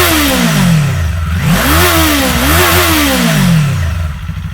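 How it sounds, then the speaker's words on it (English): Kawasaki Eliminator 450 from 2024 with a Coffman's Thunder exhaust, loud and close, blipped repeatedly toward redline: the engine rises and falls in sharp revving sweeps over a rumbling idle. "Now give it a couple of red line blips."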